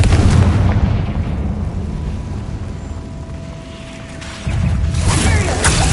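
A Confringo spell explosion in a video game sets off a loud, rumbling boom that decays into a low roar, followed by a second burst near the end.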